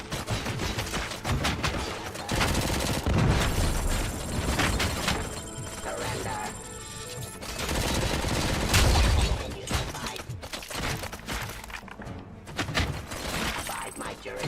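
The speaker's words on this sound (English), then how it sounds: "that's a lot of bullets" Gunfire from the RoboCop video game, sustained loud automatic bursts mixed with impacts and crashes, with someone talking over the shooting at times.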